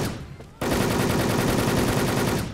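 Rapid automatic gunfire in a battle royale video game, a dense continuous burst that starts abruptly after a brief quieter stretch and runs loud to the end.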